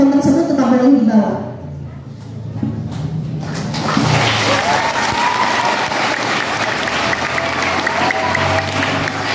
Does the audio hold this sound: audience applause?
yes